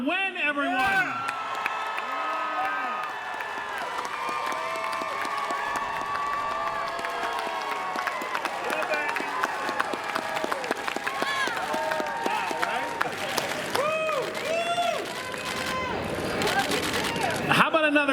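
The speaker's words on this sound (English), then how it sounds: "Give it up for Ming-Na Wen, everyone" Convention crowd at L.A. Comic Con 2021 cheering, whooping and applauding a guest's entrance, a loud, sustained roar of many voices and clapping that swells again near the end, with shouts rising over it.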